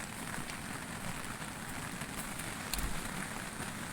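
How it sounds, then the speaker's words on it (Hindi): Steady heavy monsoon rain in a hill village hisses continuously, a dense wash of drops with no voices, close and unbroken throughout. "ऊपर की साइड में बहुत बारिश हो रही है, अभी भी बारिश लगी हुई है।"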